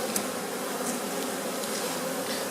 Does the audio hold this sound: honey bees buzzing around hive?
yes